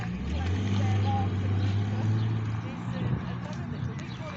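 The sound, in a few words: Bentley car driving away from a car meet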